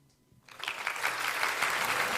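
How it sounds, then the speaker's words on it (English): Audience applause at an Islamic finance conference session, rising from near silence into sustained, dense clapping from a sizeable crowd that continues steadily to the end. "Ladies and gentlemen, let's give them a round of applause."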